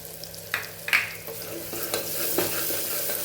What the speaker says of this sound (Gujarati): મસાલાને સરસ સાતળી લેવાનો છે।